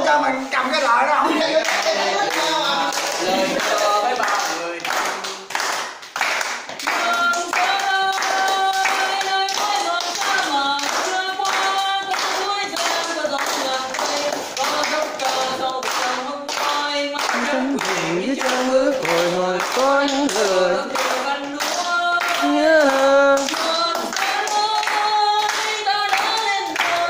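An audience claps at a Mid-Autumn Festival event in Ialop, Daklak: sustained rhythmic clapping in time with a loud, continuous song, running under music and singing throughout.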